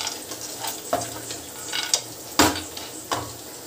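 Prawns and sun-dried urad dal vadiyalu stirred in a hot pan, a steady low sizzle broken by several scraping strokes and light clinks of a spoon against metal, close and clear, with no voices.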